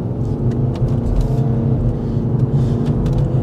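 Mercedes E220 CDI AMG Line diesel convertible accelerating in manual mode, a steady low engine drone running continuously throughout, with no clearly audible gear-change break.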